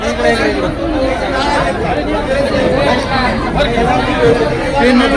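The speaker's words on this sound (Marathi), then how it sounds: "प्रचंड गर्दी आपण बघतो या ठिकाणी हो" Large crowd chattering outside a bank, a dense, continuous babble of many overlapping voices close by with no single voice standing out.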